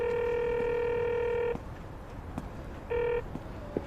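Telephone keypad dialing produces a long steady tone followed by a short second one, with quiet room noise and a few faint clicks between them, close and clear.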